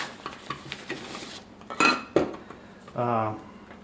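Inexpensive camping cook set pots knocked and handled, a run of light metallic clanks and clinks with a couple of louder rattling bumps and a brief ringing scrape near the end, close by with no talking.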